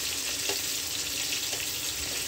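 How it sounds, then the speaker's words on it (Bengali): Potato pieces frying in oil with salt, covered, as part of biryani preparation, giving a steady, close sizzling hiss throughout with a few faint clinks, and no talking. "আর এই দিকে আলুটা ভাজা ভাজা হচ্ছে।"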